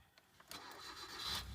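A car engine cranking and catching after the key is turned, faint ticks first, then a rising start that settles into a steady running hum, near and moderately loud.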